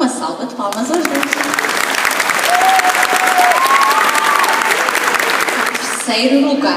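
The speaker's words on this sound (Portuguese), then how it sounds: "Uma salva de palmas aos dois." A crowd applauds steadily at a song contest awards ceremony, dense clapping filling the room while a voice speaks over it and a tone briefly rises through the noise.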